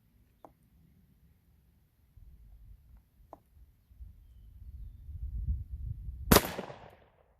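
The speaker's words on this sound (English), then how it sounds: "Get the safety off and take a shot." A single sharp, loud gunshot from a painted gun cracks close by with a brief echoing tail, preceded by faint clicks and low rumbling handling sounds.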